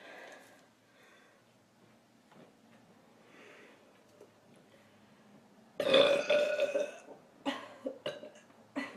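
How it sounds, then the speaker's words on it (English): A woman lets out a long, loud, close burp after a quiet stretch, followed by several shorter belching bursts in quick succession. "Okay, now I'm ready to burp."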